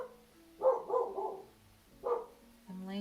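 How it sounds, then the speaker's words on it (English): A dog named Link barks outdoors in the morning, probably at a squirrel: a few moderately distant barks, a quick cluster followed by a single bark, then a higher whine-like yip at the end, with no one talking. "Link is probably barking at a squirrel this morning."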